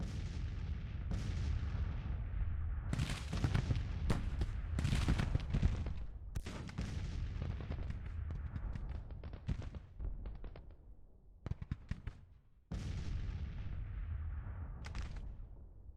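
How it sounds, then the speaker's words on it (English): Cannon fire on a Chancellorsville battlefield in Grand Tactician: The Civil War, heavy booms and rolling volleys layered into a dense, continuous barrage with repeated sharp blasts, loud throughout, with a brief lull near the end before resuming. "We got some artillery up here."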